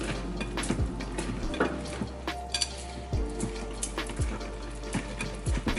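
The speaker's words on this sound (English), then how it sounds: "I'm whisking with one hand." A whisk clinks and scrapes against a bowl as vegan, gluten-free banana bread muffin batter is mixed by hand, with quiet irregular stirring taps and light kitchen clatter close by.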